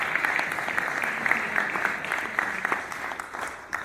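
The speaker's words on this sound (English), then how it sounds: "could we please give a round of applause to the task force?" Audience applause for a city homeless task force at its final public meeting, a steady wash of clapping hands holding evenly for the whole stretch, moderately close and filling the room without voices on top.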